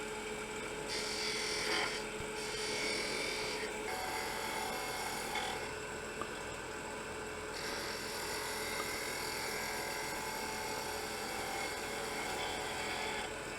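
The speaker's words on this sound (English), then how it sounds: "I'm just taking the skew and just rounding that over there." A skew chisel rounds over a wooden scoop handle spinning on a wood lathe, giving a steady, continuous scraping whir with a high-pitched tonal hum running nearly unbroken throughout, close and alone without speech.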